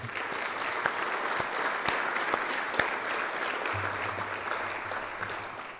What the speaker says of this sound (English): Let's give a round of applause for those who have already been inducted.